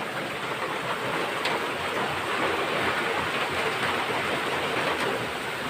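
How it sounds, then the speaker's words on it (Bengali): Heavy cyclone rain and strong wind roar outside in a dense, unbroken wash of noise that stays loud and steady from start to finish, with no voices. "বাইরে ভীষণ জোরে ঝড় উঠেছে, এখন 80 90 কিলোমিটার বেগে ঝড় হচ্ছে"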